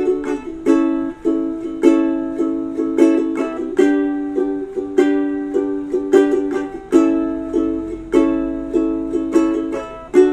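A ukulele plays a song's chord progression from the intro in a steady, repeating strumming pattern. Each strum rings clearly and close, with no talking over it.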